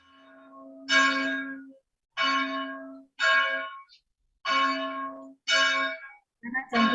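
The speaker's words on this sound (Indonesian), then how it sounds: "Iya, kebetulan jam 12 di sini kami bunyikan lonceng dan bunyinya cukup keras." A church bell in Palasari rung loudly at noon, sounding six separate resonant clangs at roughly one-second intervals, each with a long ringing hum, heard alone and close.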